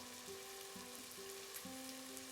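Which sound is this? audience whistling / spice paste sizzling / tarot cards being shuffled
spice paste sizzling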